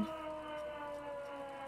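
A police siren in the Disco Elysium video game sounds as a sustained, droning electronic wail, steady and moderately loud throughout with no talk over it.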